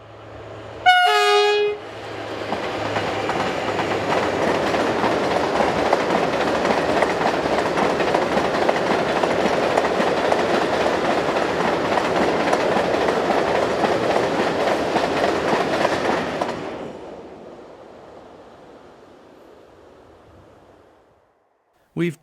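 A pair of French electric locomotives, 75082 and 75087, haul a loaded ballast train past on the Mâcon to Chalon-sur-Saône main line, sounding a short horn blast before a loud, sustained roar of wagons that fades away.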